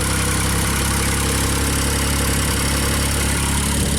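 A JLG scissor lift's engine idling loud and close, a steady, even mechanical rumble with a constant vibration and no pauses.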